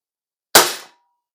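A single sharp shot from an Umarex S&W M&P 9 M2.0 blowback CO2 BB pistol, one close, loud crack with a short decaying tail, alone in silence.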